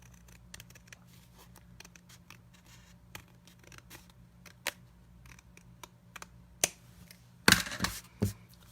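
Scissors snip a thin sliver of white cardstock from a handmade card front while stamping and card making, a few quiet cuts followed by a louder cluster of crisp snips near the end, over a faint low hum.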